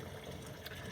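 Tap water runs steadily into a sink to rinse out a recorder, a constant close hiss and splash of moderate loudness with no speech.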